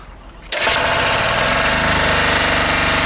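A motoblock cultivator's small engine starts up after half a second of quiet and then runs loud and steady close by, with a dense rattling, knocking drone.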